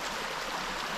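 The River Tyne flows past in a steady, even rushing wash of moving water, close by and continuous, with no voices.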